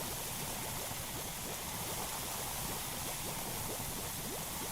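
Water flows steadily around the map in Power Wash Simulator 2, a continuous, dense rushing and babbling like a stream, constant and moderately loud throughout with no voices.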